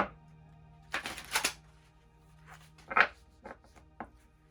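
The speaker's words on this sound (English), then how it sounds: "Cards don't want to shuffle." Quiet riffling bursts of tarot cards being shuffled, a longer flurry early on followed by a few short, sharper card snaps, close and soft.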